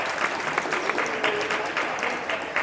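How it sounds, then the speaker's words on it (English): Spectators in the stands at an eighth-grade basketball game give a steady round of applause, a dense patter of clapping that fills the gym throughout. "he gets a round of applause from the stands"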